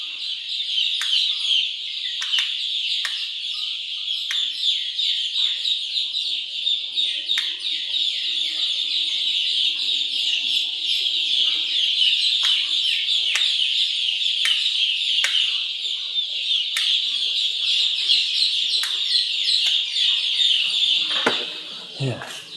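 A flock of about 5,000 Sonali chickens in a poultry shed, a dense continuous chorus of high chirping and cheeping with scattered sharp clicks, steady and close throughout.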